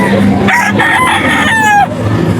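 A Gilmore bloodline gamefowl rooster at a breeders' booth gives one loud, close crow that rises and then drops away, over a steady background of crowd and hall noise.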